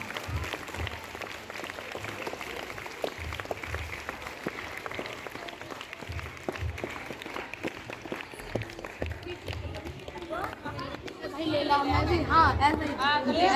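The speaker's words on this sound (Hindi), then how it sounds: "तालियां बजाकर स्वागत कीजिए।" An audience at an S.S.D Convent School function claps in a sustained, steady round of applause with crowd chatter and voices mixed in, swelling louder near the end.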